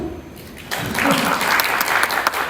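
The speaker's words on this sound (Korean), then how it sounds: "박수!" An audience at a graduation and awards ceremony breaks into applause after a brief quiet moment, many hands clapping steadily and fairly close until the end.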